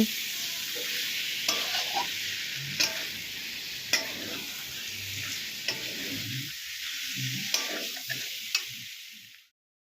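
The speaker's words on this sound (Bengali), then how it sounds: "এখন মশলার সাথে কিছু সময় কষিয়ে তারপর ঝুল দেওয়া হবে" Katla fish pieces stir-fried with spices in a hot pan, a steady close sizzle broken by regular scraping strokes of a spatula, each stir a short clatter, until the frying cuts off abruptly at the end.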